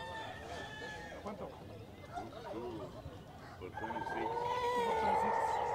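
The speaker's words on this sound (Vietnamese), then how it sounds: "ở đây có mấy con gà trống nè" Roosters crow and cluck among live poultry at an outdoor flea market in the United States, heard under steady crowd noise and people talking nearby.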